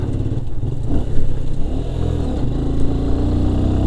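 A Kymco CK1 125 motorcycle engine runs steadily at close range, its low, buzzing drone rising and falling through a brief rev before settling into an even hum, with no talking.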